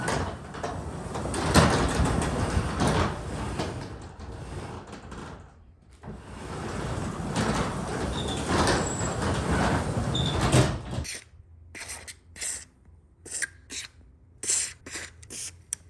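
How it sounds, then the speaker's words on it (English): A freshly greased garage door rides up and down its track on nylon rollers, a long continuous rumbling glide that pauses, resumes, then gives way to scattered lighter knocks and clicks as the motion ends. "I just greased all the moving parts of the garage door, and after I move it up and down once or twice, just listen to how quiet it gets"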